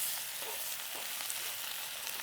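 Outer lettuce leaves sauté in a hot pan, a steady hiss of frying with a few light stirring clicks, close and moderately loud with no talking.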